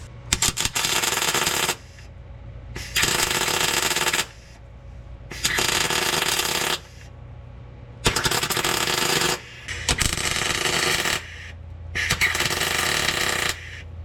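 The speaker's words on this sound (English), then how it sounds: "we're only welding sheet metal" Cheap MIG welder running on 220 volts with the shielding gas off, welding sheet metal: six loud, close crackling bursts of about a second and a half each, separated by short quiet pauses.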